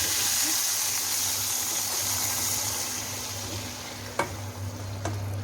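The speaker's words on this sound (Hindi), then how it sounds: "अब हम इसका तड़का इसमें डाल देंगे।" Fenugreek and cumin tadka sizzles steadily in a pan for aloo bhujiya, a continuous hissing fry near the listener with a few soft clinks toward the end.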